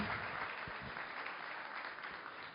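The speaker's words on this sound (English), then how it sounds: "Another big round of applause for our maid of honor" Wedding guests applauding at the reception speeches, a steady wash of many clapping hands from a roomful of people, quite faint and distant throughout.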